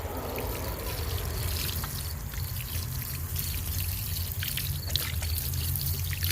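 Water pours steadily into a freshly dug garden hole ready for transplanting a rose, a continuous close splashing and trickling flow with no talking.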